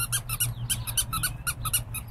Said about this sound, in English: What about the squeaky?